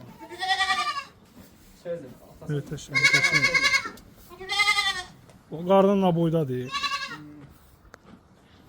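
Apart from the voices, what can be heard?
goats bleating on a farm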